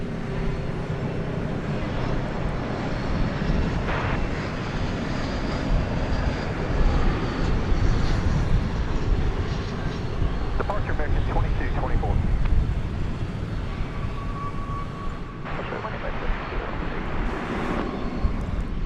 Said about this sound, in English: Airbus A321 touching down from Los Angeles.